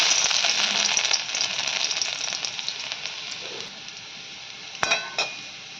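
Chopped garlic fries in hot oil with a bright, dense sizzle close by, easing slightly over time, with a couple of sharp clinks of a utensil near the end.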